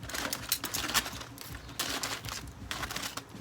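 Aluminium foil is grabbed and handled while baby back ribs are being prepared, producing loud, close crinkling and rustling in bursts with short pauses between them.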